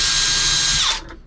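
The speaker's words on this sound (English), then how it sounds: "I'm going to use my handy dandy self-centering drill bit" A self-centering drill bit bores a small pilot hole for a tiny number four mild steel screw, the power drill whining loudly for about a second before spinning down and stopping.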